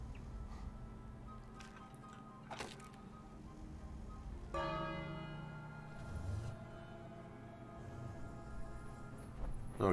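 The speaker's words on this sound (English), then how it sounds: "Let's ring this bell." A bell rung in the King's Quest video game, with a metallic strike and harmonic ringing tones partway through, set over a steady, busy game soundscape with low rumbling.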